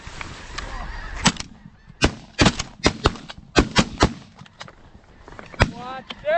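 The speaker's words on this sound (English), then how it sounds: "I shot at that bird." Waterfowl hunting at sunrise with a shotgun among ducks and snow geese: several sharp, loud shots ring out in irregular succession amid a chorus of honking geese.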